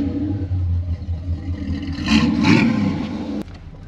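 Pontiac Firebird engine on a drive, a low steady rumble that swells as it accelerates around the two-second mark, then eases off, with faint clatter throughout.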